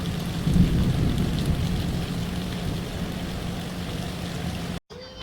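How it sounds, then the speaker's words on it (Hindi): Heavy rain pours steadily with rolling thunder during a rainy birthday party, a dense continuous roar that cuts off abruptly near the end. "देखो देखा मैं कह रही हूँ ना बारिश को किस कदर बिजली चमक रही है।"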